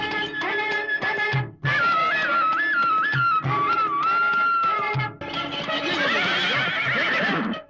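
A horse in a comedy film scene whinnies several times in long, wavering calls over a busy mix of other sound, with faint hoof clip-clops, loud and close throughout with no talking.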